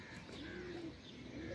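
Pigeons, highflyers released from a special cage, cooing softly nearby in low, rolling repeated calls with faint chirps over a steady outdoor background.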